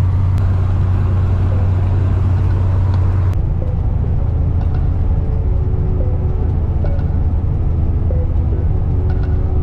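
Steady low engine rumble from inside a truck cab on a winter highway drive from Moscow to St Petersburg in Russia, loud and continuous with a constant droning hum and road noise, no talking.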